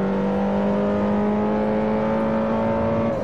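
In Forza Motorsport 4 on Xbox 360, a race car engine holds a steady, loud, high whine at a constant pitch, then shifts down slightly near the end, with no voices over it.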